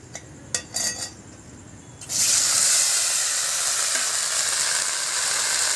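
Taro stolons (kochur loti) dropped into a hot pan of oil: a few light metallic clinks, then a loud, steady sizzle that bursts in suddenly and keeps frying evenly to the end.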